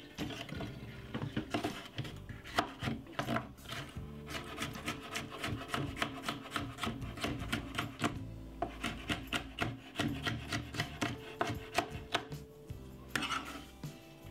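Knife slicing red pepper on a wooden board for a salad, a quick run of crisp taps and rasping cuts, close and fairly quiet, in uneven bursts with short pauses.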